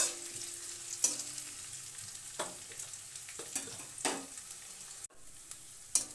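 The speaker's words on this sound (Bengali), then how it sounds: "রেখেছিলাম লঙ্কা কুচি দিয়ে ভালো করে নেড়ে নিলাম" Chopped green chillies stirred in a frying pan of hot oil and spice mix, a soft steady sizzle broken by several distinct spatula scrapes and knocks against the pan.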